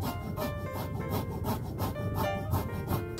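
Lemon peel being zested on a microplane grater for a no-bake vegan cheesecake, a quick run of close, rhythmic scraping strokes, each a soft rasp repeated at an even pace.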